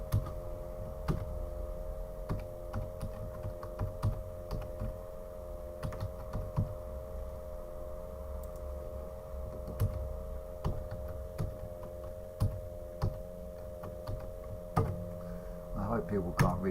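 Rapid clicking keystrokes on a computer keyboard while entering an admin login, close and steady for the whole stretch over a constant electrical hum, with a voice faintly present.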